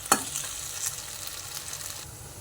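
Turmeric is stirred into potato curry in a pan, a sharp spatula scrape at the start followed by a soft sizzling hiss and light scraping, with no talk.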